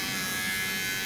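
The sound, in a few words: electric trimmer removing pilling from clothing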